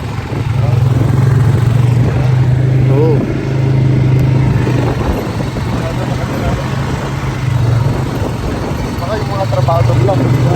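A motorcycle engine runs at a farm in a steady, low throbbing idle that carries through the whole stretch, partly masked by people talking nearby.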